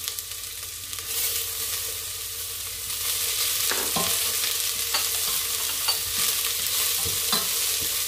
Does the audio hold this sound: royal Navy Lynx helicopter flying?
no